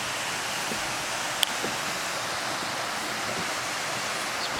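A waterfall in woods at night, heard as a steady, even rush of broadband water noise from a short distance, with a couple of faint clicks over it and no voices.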